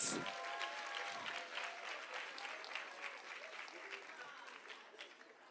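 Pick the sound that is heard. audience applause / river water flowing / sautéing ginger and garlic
audience applause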